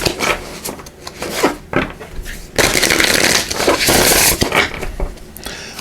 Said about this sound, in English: We'll give these a good shuffle